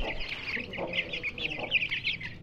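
Young chicks, offspring of a white rooster, clucking and peeping in quick chirpy bursts, close and continuous over a low background, no talk.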